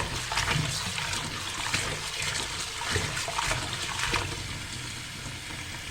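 Food is rinsed in water to wash off sand, giving a steady, close wash of running and sloshing water with no talking.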